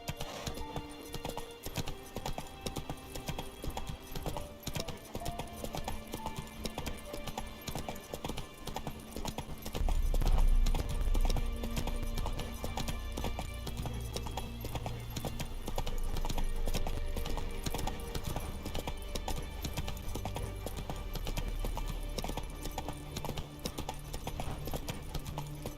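A horse gallops in The Witcher 3, its hooves beating a quick, steady clip-clop under a dense wash of game music and ambience that swells louder partway through.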